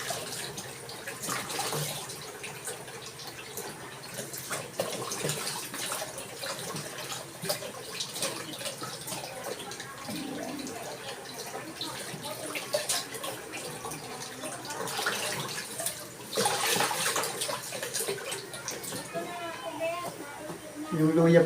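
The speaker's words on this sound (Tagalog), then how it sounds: "Ayan, hugasan natin ng maigi." Ginger and vegetables are washed under running tap water, a steady splashing flow with brief louder gushes as they are rinsed, heard alongside someone talking.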